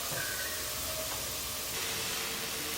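Onion and cabbage frying on high flame for spring roll filling, a steady loud sizzling hiss throughout with faint clinks.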